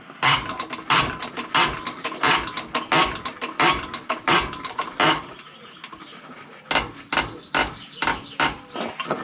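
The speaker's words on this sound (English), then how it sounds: "A couple of rapid pumps blow the air out of it." A diesel injector tester on a Marshall tractor being pumped rapidly by hand to purge air, a fast series of sharp metallic clacks in quick bursts, close and loud, with a short pause midway before the pumping resumes.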